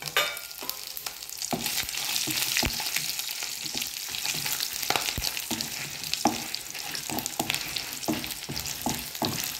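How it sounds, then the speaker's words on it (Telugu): Dried red chillies frying in hot oil for gongura pachadi, a continuous crackling sizzle broken by sharp spoon-against-pan clicks and stirring scrapes throughout. "నూనె కాగండి. ఎండుమిరపకాయలు"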